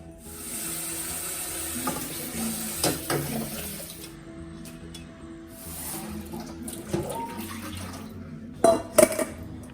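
Dried prawns being rinsed and cleaned in a sink, with running tap water hissing steadily, splashing, and occasional clinks of a bowl and utensils knocking about.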